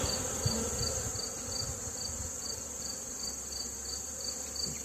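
Honey bees, riled up during fall feeding while a hive is opened, buzz loudly and continuously close by, a thick agitated hum with no voices.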